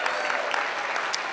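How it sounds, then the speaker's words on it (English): A convention crowd at the National Action Network opening gives a brief, lively burst of clapping for Reverend Sharpton, close and bright with sharp individual claps standing out. "Let's give Reverend Sharpton a strong round of applause"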